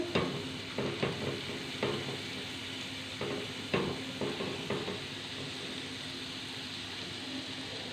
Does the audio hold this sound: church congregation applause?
no